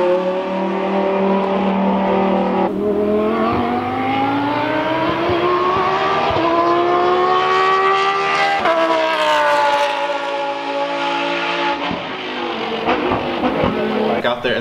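Lamborghini supercar engine revving repeatedly then driving past, rising and falling exhaust notes with sharp blips, loud and close outdoors.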